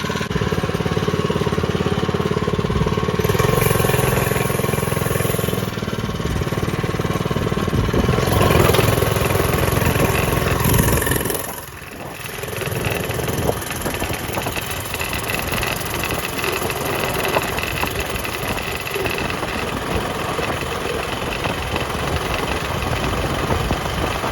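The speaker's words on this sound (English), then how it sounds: "the governor is removed and everything out of it, so it can rev out" A 97cc quad engine with its governor removed revs hard and steadily close by, a loud continuous drone that dips briefly midway before picking back up.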